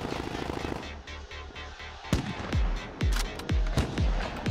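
Gunfire in a shooter video game: a rumble of shots gives way to a string of sharp, loud cracks in quick, uneven succession, each followed by a short booming tail.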